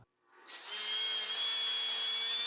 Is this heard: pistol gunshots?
no